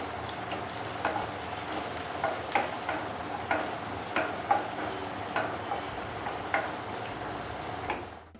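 Sliced onion frying in hot coconut oil with cloves and cinnamon for a potato curry, a soft steady sizzle punctuated by regular ticking taps of a spoon against the pan, no voices.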